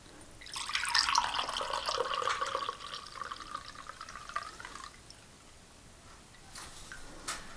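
Dye water from RIT-dyed Aida cross stitch fabric is poured off in a steady trickling stream. The pour is close and moderate in volume for several seconds, then tapers into scattered drips.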